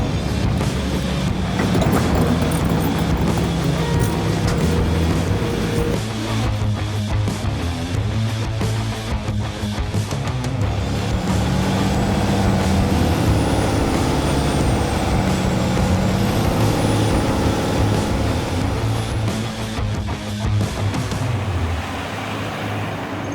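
A 2015 Ram 2500 pickup on Carli leveling suspension tows a heavy-duty gooseneck trailer carrying a skid steer and bucket around town, its engine and road rumble droning steadily and loudly throughout, with no voices.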